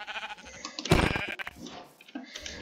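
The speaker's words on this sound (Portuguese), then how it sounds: "Matei essa ovelhinha aqui." A sheep from the Minecraft video game bleats loudly and close, a single burst of game-style bleating standing out over quieter background sounds.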